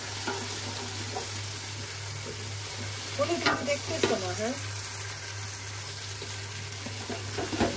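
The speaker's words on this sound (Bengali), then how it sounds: "এবার এটাকে খুব ভালো করে ভাজা ভাজা করে নিতে হবে।" Ginger and garlic paste frying in oil in a pan, a soft, steady sizzle with stirring over a constant background hum, while people talk briefly nearby.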